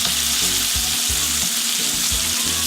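A prime NY strip steak sears in a hot skillet with loud, continuous crackling sizzle, while a few soft low thumps recur in a regular rhythm underneath, and no voices are present.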